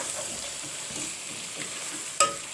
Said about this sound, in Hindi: इसको अच्छी तरह भूनूंगी